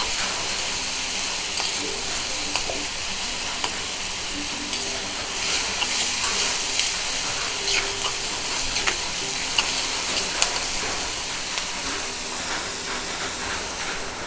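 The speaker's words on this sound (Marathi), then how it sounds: "चांगला कांदा गुलाबी रंगाचा होईपर्यंत परसून घेऊया आपण" Onion sautéing in a pan until pink, a continuous loud sizzle and hiss with scattered scraping stirs and small pops over fourteen seconds, no talking.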